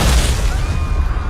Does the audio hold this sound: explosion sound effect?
yes